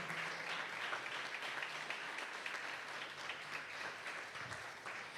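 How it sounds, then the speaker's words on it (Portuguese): Church congregation clapping during a worship service, a continuous, even wash of applause at moderate distance, fairly quiet overall, with no talking over it. "Aplauda o Senhor, que Ele é digno de toda a glória."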